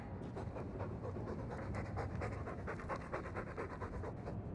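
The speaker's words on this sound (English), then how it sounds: "All that noisy dog breath, day in, day out, make him stop." A dog in the video game Dragon Age II pants rapidly and rhythmically, close and steady throughout, with quick breathy huffs and no other sounds.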